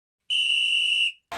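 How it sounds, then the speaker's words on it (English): A referee's whistle in a simulated Euro 2024 football video game match between Denmark and Serbia: one sharp, steady, shrill blast lasting close to a second, heard clearly on its own. "Right off the whistle"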